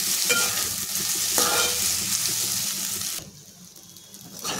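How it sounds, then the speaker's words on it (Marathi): Cooked, drained vermicelli sizzles and is stirred in a hot pan for upma, a loud crackling fry with scraping stirs that drops away sharply near the end. "इथे मी शेवया ज्या शिजून घेतलेल्या आहेत ते ड्राय करून आपण त्याच्यामध्ये टाकून फ्राय करून घेऊयात"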